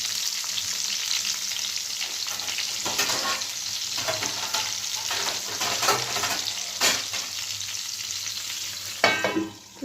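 Ridge gourd pieces fry in a pan with a constant bright sizzle, broken by occasional stirring scrapes and a brief watery splash near the end.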